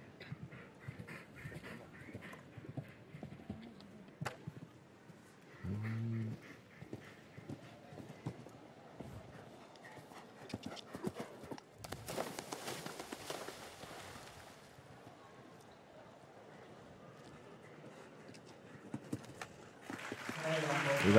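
A show jumping horse's hooves clip-clop and thud across a derby course at La Baule, intermittent and moderately distant beneath French commentary, with crowd noise swelling at the end.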